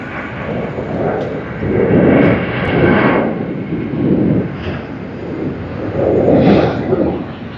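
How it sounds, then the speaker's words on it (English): An airliner takes off at Sydney Airport, its broad jet roar swelling and easing in several rumbling waves, loud and sustained throughout with no voices. "Another great takeoff, and we have an arrival."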